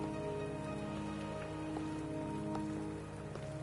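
Steady rainfall in the video game Wuthering Waves pattering on a surface, constant and moderately loud, with occasional distinct drops and a faint tonal hum underneath.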